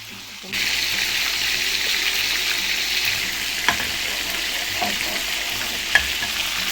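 Chicken pieces with salt, bay leaves and garlic bubble in a pan as the chicken oil renders out, giving a steady, bright hiss that starts suddenly and holds throughout, with a few faint clicks.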